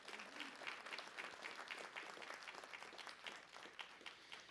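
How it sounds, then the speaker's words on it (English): At a public safety awards ceremony, the audience applauds award nominee Dwight Davis, a corrections officer, with a quiet, steady patter of many hands clapping at a distance. "Let's give him a round of applause"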